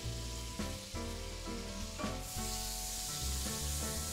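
A tablespoon of butter sizzles in a very hot pan, a steady close crackle and hiss with a few soft scraping and stirring bumps, no voices.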